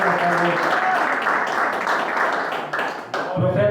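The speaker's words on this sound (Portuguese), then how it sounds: "você vai bater palmas" Church congregation clapping together, a dense, loud patter of applause that carries on steadily with a voice rising over it, then thins out near the end.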